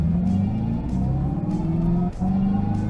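A 2025 Dodge Charger EV launches hard at full throttle, a loud rising electric whine and drivetrain roar climbing steadily in pitch, with brief dips like shift points and no talk over it.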